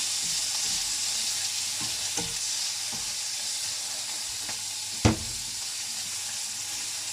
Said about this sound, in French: Donc on cuit les champignons souvent pour pas qu'ils brûlent.